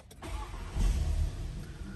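2017 Skoda Superb Wagon with 66,000 km fired up by push button: a brief starter whir, then the engine catches with a low rumble and settles into a quiet, steady idle, heard close and faint.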